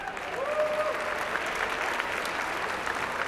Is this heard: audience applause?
yes